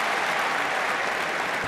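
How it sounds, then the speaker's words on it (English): A crowd at a terrier group dog show judging applauds loudly and continuously, a dense wash of clapping with no pauses. "A supportive crowd."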